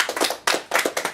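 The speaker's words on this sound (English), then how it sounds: "a round of applause" Brief applause for a quiz contestant, several hands clapping in a short, fairly close burst with a small pause partway through.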